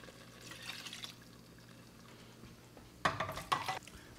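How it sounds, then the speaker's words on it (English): Stock splashes into a cooking pot for a shrimp dish in a short, gurgling pour near the end, after a quiet stretch with only a faint earlier trickle. "The rest of the stock is going to go in."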